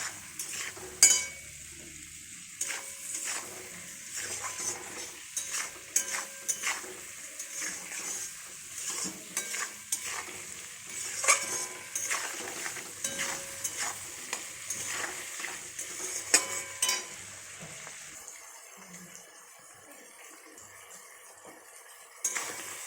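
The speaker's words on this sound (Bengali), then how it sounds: "ক্যাপসিকাম, টমেটো, পেঁয়াজ ভাজা হয়ে গেছে" Capsicum, tomato and onion are stir-fried in a pan: a soft sizzle runs under repeated scraping and clattering strokes of a spatula, with the stirring falling away near the end and no voices.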